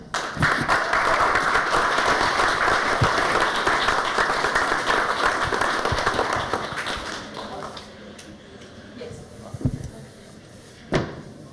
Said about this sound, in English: give a big round of applause and welcome to Bob Saxon